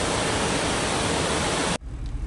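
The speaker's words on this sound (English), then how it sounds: "here it starts pouring down rain" Dense, steady roar of heavy rain pouring down at a dam, loud and close, cutting off abruptly near the end to a much quieter hiss.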